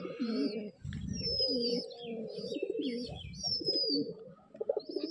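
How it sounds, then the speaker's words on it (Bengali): Young pigeons, including a hen bird, in a loft: close, soft, throaty cooing repeats in overlapping bursts, with thin chirps and a whistly note above, and no speech. "খুব সুন্দর একটু মাদি পায়রা।"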